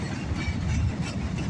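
A northbound CSX mixed freight train rolls past carrying junk cars and telephone pole loads, a loud steady rumble of wheels on rail close by.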